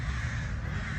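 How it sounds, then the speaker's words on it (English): Crows cawing among trees in a park near a duck pond, a steady, fairly close chorus of harsh calls filling the moment. "As usual, you'll be hearing all the birds."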